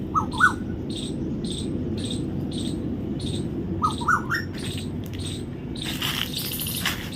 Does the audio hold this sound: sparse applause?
no